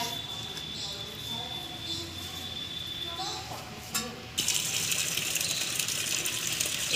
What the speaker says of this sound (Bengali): এবার আমি এই ঝুড়িটায় করে ভালো করে ডলে ডলে ধোবো।